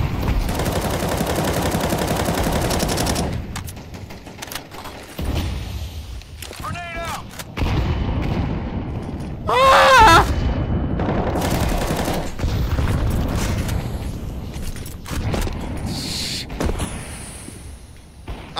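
Grenades and gunfire in a first-person shooter match, bursts of loud explosive blasts and rapid shots recurring in clusters with brief gaps, close and heavy, with a few sharp metallic clinks between.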